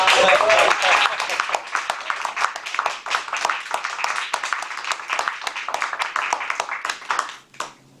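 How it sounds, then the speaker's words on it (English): An audience at a Toastmasters meeting gives a round of applause, dense overlapping clapping that stays loud for several seconds before thinning out, with a brief voice heard near the end. "So another round of applause."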